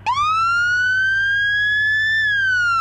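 A county fire and police siren starts up and rises into a long, steady wail, then begins to drop at the end; loud and close, with no voices.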